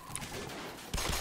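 Gunfire in the video game Left 4 Dead 2: a brief muffled rumble of shooting, then a sharper, louder burst of shots in the final moments.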